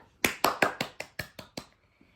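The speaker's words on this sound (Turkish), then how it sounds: "Alkışlayın arkadaşlarınızı" A group of schoolchildren at a school picnic gives a round of applause for the winning team, about eight sharp claps in a slowing rhythm, close and clear, then silence.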